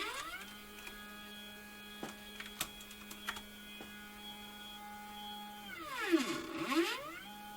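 A DIY mini CNC machine's stepper-driven axis travels 50 millimeters, a faint steady whine holding a tone, then rising and falling pitch sweeps as it moves back, with a few small ticks and low hum throughout.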